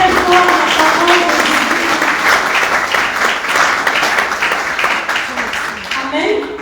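A church congregation applauds loudly and continuously throughout, a dense close wash of clapping with a voice speaking over it.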